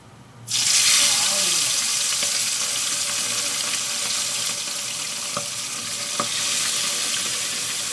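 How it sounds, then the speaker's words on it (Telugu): Marinated fish pieces drop into hot oil and set off a sudden loud, steady sizzle that fills the space and keeps going without a break, close up in a home kitchen. "చేప ముక్కల్ని ఇప్పుడు అందులో వేసేస్తాం."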